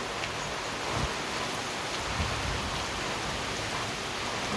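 Monsoon rain falls steadily at Arunachala hill in Tiruvannamalai, a continuous even hiss of rain on surfaces with faint rustling, no voices, holding at a constant level throughout.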